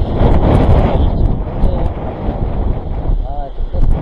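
Strong wind buffets the microphone on seaside rocks during fishing, a loud, steady low rumble with gusts throughout, and a person briefly speaks under it.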